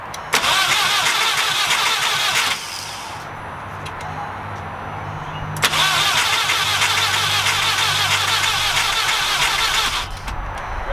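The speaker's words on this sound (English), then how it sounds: "Now we're just gonna start it over to get some oil fed to the turbo." A VW MK4 GTI 1.8T with a big turbo and its ignition coils disconnected cranks over in two long, loud, close bursts of churning starter and engine noise, separated by a quieter pause, with no talking.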